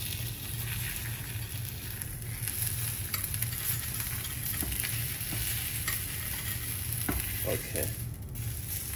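An egg fries in a carbon steel pan, a steady close sizzle and crackle running throughout with a few louder pops near the end; one brief spoken word sits over it.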